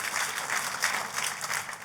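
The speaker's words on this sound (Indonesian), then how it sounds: "tepuk tangannya yang paling meriah buat Tuhan kita" Congregation applauding in a church during a sermon, a lively, sustained round of clapping from many people, steady and fairly full, continuing without break and with no talking on top.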